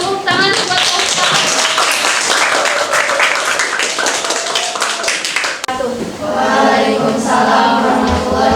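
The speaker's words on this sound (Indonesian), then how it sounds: "Maju kita tepuk tangan buat kelompok." Classroom students clapping for the first group stepping up to present, a dense run of close hand claps lasting several seconds before voices take over near the end.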